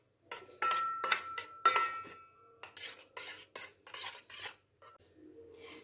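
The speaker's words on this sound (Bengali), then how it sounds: "এবার সব কিছুকে আমি খুব ভালো মতন গুলিয়ে নেব।" Spoon clinking and scraping in a bowl while mayonnaise, tomato sauce and kasundi are mixed together, a run of close, rhythmic stirring bursts with short pauses between them.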